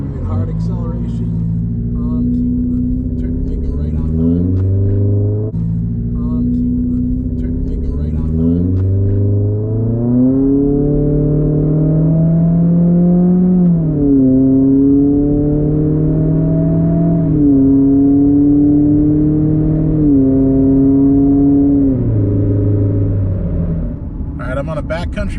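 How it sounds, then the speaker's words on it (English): 2019 Subaru Crosstrek with a muffler delete accelerating hard through several gears, a loud droning exhaust rising in pitch and dropping at each shift, heard steadily from inside the car. "did the exhaust improve the performance, horsepower, that kind of thing? Nope, it definitely did not. Hard acceleration"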